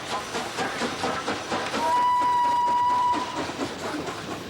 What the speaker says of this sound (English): hauling endless freight trains.